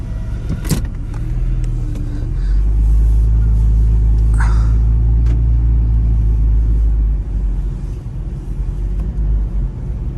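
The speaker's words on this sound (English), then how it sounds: "we're gonna go ahead and take this out for a drive" Porsche 911 pulling away on the road from inside the cabin, a steady low engine rumble swelling after a brief door or window thud and holding loud and even, with no talking.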